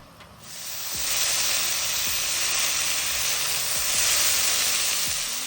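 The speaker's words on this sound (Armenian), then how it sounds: "Սունկը տապակում ենք առանց թավայի վրա կափարիչ դնելու" Champignon mushrooms fry in an uncovered pan, giving a loud, continuous sizzle and steamy hiss that swells after the first second and holds steady, with a few faint utensil clicks beneath.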